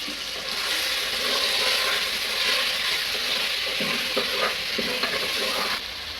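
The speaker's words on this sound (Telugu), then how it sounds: "ఫైవ్ మినిట్స్ ఆయిల్లో మగ్గించుకుందామండి. ఇప్పుడు మూత పెడుతున్నాను." Mutton sizzles loudly in oil in a covered pan, a dense continuous frying hiss with a few faint knocks, easing off slightly at the end.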